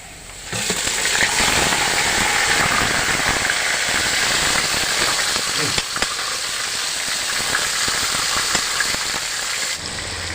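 Marinated chicken is dropped into a hot pan with chopped onions for chicken biryani, giving a loud, continuous sizzle and crackle that holds steady throughout, with a few sharper pops.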